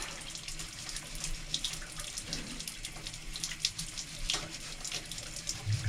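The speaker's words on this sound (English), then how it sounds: "Helps if water's running under it." Tap water runs steadily over a scrub pad while a paint bucket is washed out, a continuous hissing splash with faint rubbing and scrubbing mixed in, close and fairly loud.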